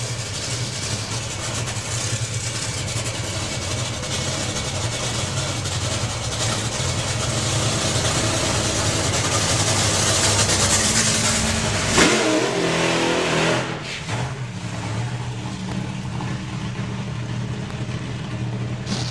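A top fuel dragster engine roars at full throttle during testing at Santa Pod Raceway, loud and sustained, then cuts off abruptly near the end, leaving lower rumbling engine noise behind.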